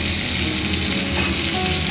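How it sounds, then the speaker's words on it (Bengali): Potatoes and pointed gourd frying together with turmeric in a pan over a gas flame, giving a steady, loud, dense sizzle with no pauses and no voices. "আলু আর পটলটাকে ভালো করে আমি একসাথে ভেজে নেব।"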